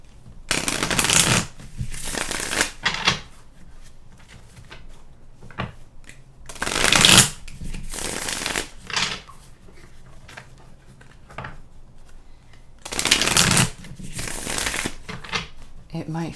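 Tarot cards being shuffled in a series of crisp riffle bursts, separated by quieter gaps with softer card handling, close and clear, with a voice talking in between.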